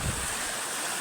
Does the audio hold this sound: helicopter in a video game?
no